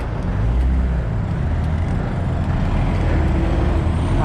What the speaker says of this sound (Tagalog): Tapos traffic pa.